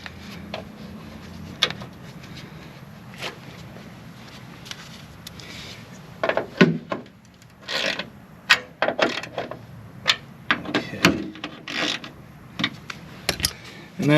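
Seat track being lifted up and out of the cab of a 2000 Chevrolet Silverado 1500 extended cab: close metallic clunks, creaks and rattling knocks in irregular bursts, busier in the second half, over a low background hum.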